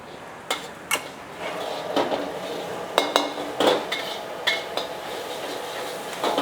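A metal utensil stirs garlic, shallot and fermented radish in oil in a pan, giving sharp intermittent scrapes and clinks over a soft background sizzle, close and fairly quiet.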